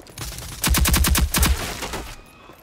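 Rapid automatic gunfire from the video game Rogue Company fires in two quick bursts of sharp, evenly spaced shots, loud and close, followed by a short fading tail.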